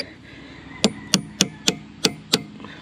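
Six evenly spaced metallic hammer strikes ring out on a punch driving a lift arm bushing out of a New Holland TN70 tractor, each blow sharp and close against a quiet background.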